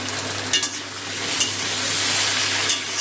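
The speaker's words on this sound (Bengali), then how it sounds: "সবজিটা একটু ভালো করে ভেজে নিলাম" Vegetables fry in a pan over a high flame in Bengali home cooking, with a constant bright sizzle and a few sharper spatters and stirring knocks, close by with no speech.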